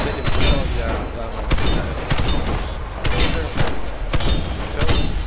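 Gunfire in the first-person shooter Warface comes as loud, rapid bursts of shots and booms, repeated in dense volleys with short pauses between them.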